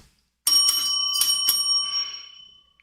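A bicycle bell rings sharply four times in quick succession, close and bright, its metallic tone lingering and fading out afterward.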